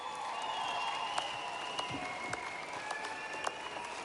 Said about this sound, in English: please give our open finalists another round of applause